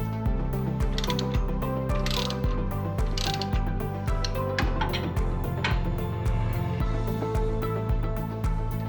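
Ratchet wrench tightening leaf spring bolts on a Grand Design Solitude 5th wheel trailer axle: steady, rapid mechanical clicking in repeated strokes, close and clear, with no talking.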